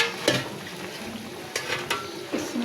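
Pieces of pangas fish being fried in a pan for a curry with pointed gourd, a low steady sizzle broken by a few short scraping and clinking stirs.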